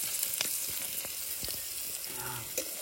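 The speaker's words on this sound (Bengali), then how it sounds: "হ্যাঁ আলুটা হালকা ফ্রাই করবো, সেটা বেশি না" Potatoes fry lightly in oil on a remote Andaman island, giving a soft, continuous sizzle with scattered crackles and a few faint clicks of stirring throughout.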